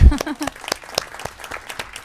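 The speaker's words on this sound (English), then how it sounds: "I think that deserves a round of applause." A short burst of applause at a school board meeting, distinct hand claps in a loose rhythm, close and moderately loud after a brief voice at the start.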